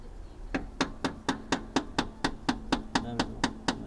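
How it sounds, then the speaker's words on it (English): Metal hammer strikes driving a pin out during engine removal from a Subaru GC8, about a dozen sharp ringing blows at a steady pace, close and loud. "you just got to hammer it a bit more harder"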